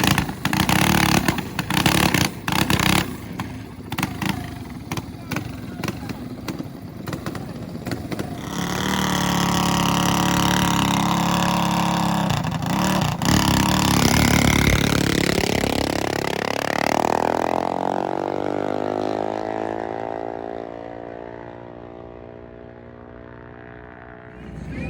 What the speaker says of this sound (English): Apparently the fad is so popular that we even have some adults here racing junior drag bikes.